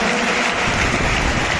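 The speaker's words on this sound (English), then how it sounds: "With a great round of applause" Applause from an audience at a school investiture ceremony, as a student council member receives a sash and badge: a dense, even wash of clapping from a large crowd, loud and continuous.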